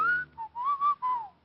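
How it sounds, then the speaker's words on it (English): A man gives a low whistle in a radio drama, a short wavering phrase of a few sliding notes, close and clear with no talk over it. "when he saw what I was with, he changed it to a low whistle"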